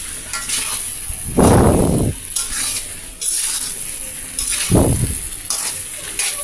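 Mango pieces are stirred in a pan for sweet and sour mango pickle, with two loud scraping stir strokes over a constant soft sizzle.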